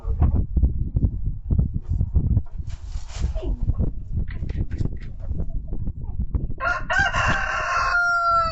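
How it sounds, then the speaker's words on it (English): A rooster crows loudly and close by near the end, with another shorter crow earlier, over a steady bed of clucking, rustling and farmyard noise. "the crows can be a little loud."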